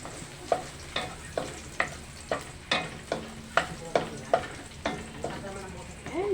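Garlic frying in oil for a Filipino-style creamy chicken curry, a sizzle broken by regular stirring scrapes roughly every half second, close and moderately loud, with no talking.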